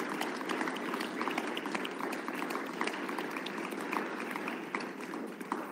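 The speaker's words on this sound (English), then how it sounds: "I hope a very warm round of applause" Warm audience applause at the close of a transitional justice event, steady dense clapping sustained throughout at a moderate level with a few louder claps standing out.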